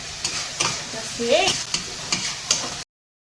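Spiced crab curry masala being stir-fried in a pan, with a steady sizzle broken by several sharp scraping stirs of a spatula, close and fairly loud, with no voices.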